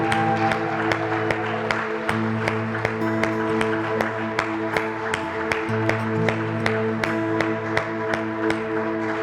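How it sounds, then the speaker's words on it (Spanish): Congregation at a Sunday church service claps together in a steady, even beat, sharp regular claps over sustained keyboard or organ chords for the whole stretch. "Así que denle un aplauso a Cristo."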